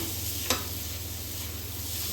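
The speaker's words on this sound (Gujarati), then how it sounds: "હલકી સ્મેલ આવે ને સુગંધ ત્યાં સુધી સાતળી લેવાનું" Chilies sautéing in oil in a pan for farali dosa, a steady soft sizzle throughout with one brief stir or clink near the start, no talk.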